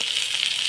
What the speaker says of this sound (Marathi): तर आपण 1 मिनिटाचा हाफ फ्राय करूया, फुल नाही.